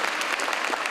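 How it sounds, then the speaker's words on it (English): Dense, steady applause from a crowd at a student mass prayer gathering in Bangalore, welcoming the chief guest, loud and continuous throughout. "Please give him a big round of applause,"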